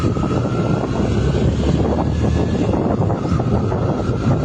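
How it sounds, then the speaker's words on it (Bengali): A motorbike strains up a steep hill road in Bandarban in first gear, a heavy continuous engine roar mixed with strong wind buffeting on the microphone, loud and close throughout with no talk. "গাড়ির সাউন্ড শুনলে হয়তো বোঝা যাচ্ছে যে আমরা আসলে কোথায় যাচ্ছি আর কোথায় উঠছি"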